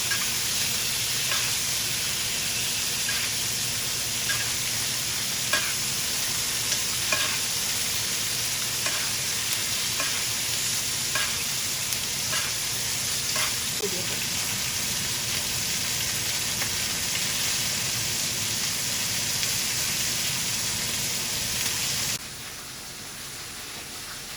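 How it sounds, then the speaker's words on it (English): A ribeye steak sizzles in a pan while it is basted with butter and fresh herbs, making a steady crackling hiss with light spoon taps and scrapes before the sizzle suddenly drops away near the end. "I'm gonna baste this with this butter and fresh herbs before taking it off."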